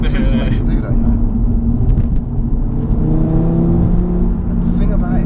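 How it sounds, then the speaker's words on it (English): A Stage 1 tuned Audi RS3 hatchback under light throttle, heard from inside the cabin as a loud, steady engine drone with rising pitch, while people talk over it throughout. "I'm barely touching the throttle too to make it do that"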